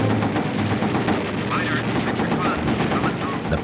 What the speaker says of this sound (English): Jim Doherty loaded his machine gun and started firing